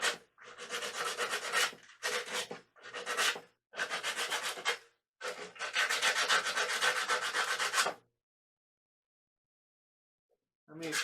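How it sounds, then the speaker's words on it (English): Bursts of hand sanding with 100 grit sandpaper on a 1969 VW Beetle front seat frame, several rhythmic scrubbing passes broken by short pauses, then a long stretch of quiet. "take some 100 grit sandpaper and just clean up the areas"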